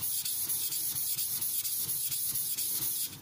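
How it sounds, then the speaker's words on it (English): A Tojiro Shirogami nakiri knife is drawn back and forth across a wet King whetstone in a sharpening progression. Rhythmic rasping strokes repeat evenly and close up, with a hissing scrape on each pass and no talking. "This stone, its place in the sharpening progression is just to refine the scratch pattern."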